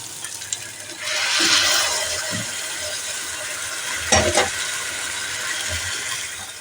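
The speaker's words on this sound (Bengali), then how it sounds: "এখন আমি গরম জল ঢেলে দেব।" Hot water poured into a simmering potato and coconut curry, a broad rushing pour with steam and a loud splash around the one-second mark and another burst near four seconds, over a steady background hiss.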